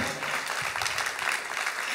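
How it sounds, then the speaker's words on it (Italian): A concert audience applauds the band after a song, producing a sustained, even patter of many hands at moderate volume. "un applauso alla band"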